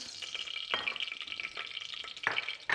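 Whole peppercorns and bay leaves sizzling in hot olive oil in a heated saucepan, with a steady crackling fry broken by a few sharper pops and spoon stirs, close and moderately loud.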